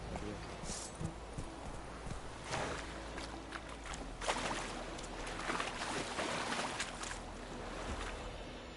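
Roach the horse's hooves clopping in The Witcher 3: Wild Hunt, a steady soft plodding rhythm beneath a voice talking and ambient game sound.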